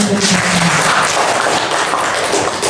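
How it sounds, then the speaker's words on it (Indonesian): Teachers at a workshop session clap together in dense, continuous applause that fills the room for a few seconds, close and loud. "Tepuk tangan."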